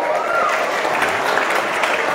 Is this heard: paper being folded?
no